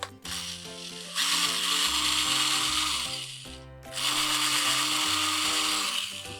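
A small 2.5 mm drill whines in two sustained bursts as it bores out and widens a hole in a metal RC car suspension link, loud and close, with brief pauses between runs.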